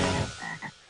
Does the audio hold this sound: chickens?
no